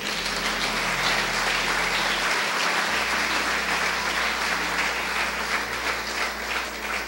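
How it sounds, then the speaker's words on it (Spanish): A church congregation bursts into sustained applause, a dense, steady wash of clapping hands that fills the space loudly for the whole stretch, with a low hum beneath it. "¿Cuántos aplauden el nombre del Eterno?"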